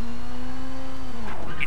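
Rally car engine held at full throttle in Colin McRae Rally 2.0 during Rally Italy, a loud, steady high-pitched drone that dips slightly near the end.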